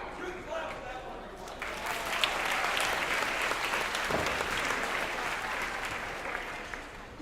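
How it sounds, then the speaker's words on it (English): A high school audience applauds after a card trick, a dense steady burst of clapping rising and holding before fading, with some voices under it. "Really, like the 6 of spades. You can clap for that one."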